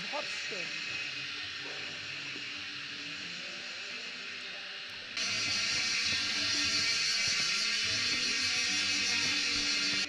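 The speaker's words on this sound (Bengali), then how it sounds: "চারিদিকে ঝিঝি পোকার ডাক, বিভিন্ন ধরনের জংলি পোকার ডাক, শুনেছেন?" Crickets and assorted wild insects shrill continuously in a forest at Cherrapunji, a dense high buzzing drone that grows louder halfway through, with faint talk underneath.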